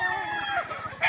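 Chickens and roosters crowd a gamefarm range area, clucking and crowing continuously up close, with a louder crow rising at the very end.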